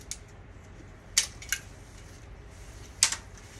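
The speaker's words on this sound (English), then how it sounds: "Let me go ahead, snip all these wires" Cutters snip number 2 wire off a transformer, giving a few sharp metallic clicks spaced unevenly over quiet background noise, with no talk.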